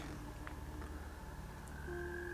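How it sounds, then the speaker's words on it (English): A frog croaks a few times in woodland at night, faint and distant amid steady insect-like tonal hum and low rumble, with no talking. "Could be talking about the creature that they're hearing, the frog."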